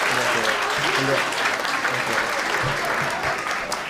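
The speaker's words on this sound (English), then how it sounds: "Let's give them a round of applause again." Crowd applause at an 8th grade graduation, a full, close wash of clapping with voices talking and calling out underneath throughout.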